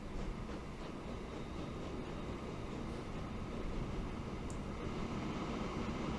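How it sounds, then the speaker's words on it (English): A crude oil freight train rolls along track in the Transport Fever 2 simulation game, a steady broadband rumble that holds level throughout, fairly near and continuous with no voices. "You're another crude oil train."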